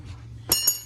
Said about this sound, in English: Shock hanger just fell.